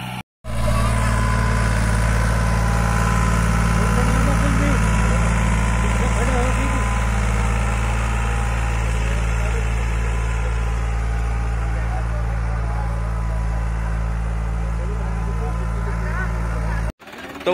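A New Holland 3600-2 Super tractor engine idling, a steady, loud low rumble with a constant vibrating hum that starts abruptly and cuts off near the end, with no one talking over it.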